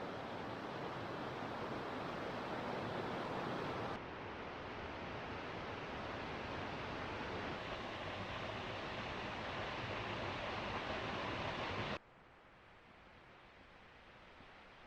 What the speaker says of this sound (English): A miniature waterfall coming down this big rock face as we continue towards Rainbow Falls.